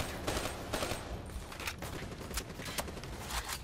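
Rapid, continuous gunfire from a gun in the Call of Duty: Black Ops 3 campaign, a steady dense rattle of shots with a few sharper cracks standing out from the close, loud mix.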